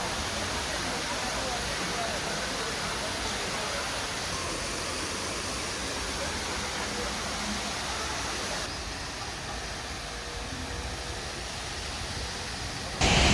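A waterfall beside a cafe in Seoul pours in a steady, broadband rush that fills the whole clip, close and constant, dropping slightly near the end.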